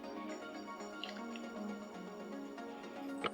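A titanium dioxide mixture for cucumber and yogurt soap is stirred in a container, making soft wet squishing and dripping sounds, quiet and close, with faint background hum.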